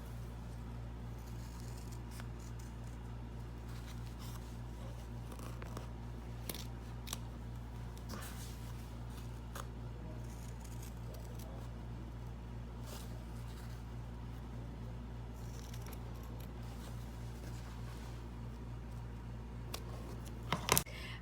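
Scissors cut fabric for a zippered pencil case, soft scattered snipping clicks over a constant low electrical hum, with a few sharper snips near the end.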